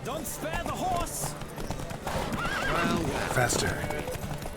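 Hooves clatter in a fast, steady gallop while horses whinny loudly, with voices talking over the galloping throughout, in a horse race in the video game The Witcher 3.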